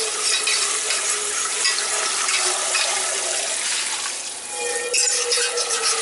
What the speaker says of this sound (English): I want to rinse the rice and get all the starch out of it.